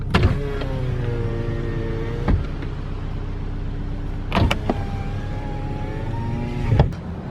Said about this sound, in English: They both have auto, so I'm talking auto down and auto up on both of the windows